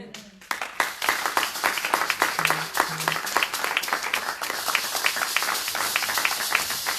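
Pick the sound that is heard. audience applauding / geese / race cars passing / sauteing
audience applauding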